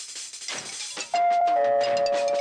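A bright two-tone doorbell chime rings out clearly after a brief clatter, its tones sustaining and overlapping.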